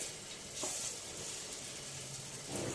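Onions and ginger-garlic paste frying in a pan for a prawn gongura dish, a steady faint hiss of sizzling oil with a few soft stirring scrapes, no talk.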